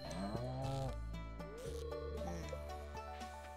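A cartoonish cow moos in the Stardew Valley farm game, a sustained tonal call heard alone over steady game music.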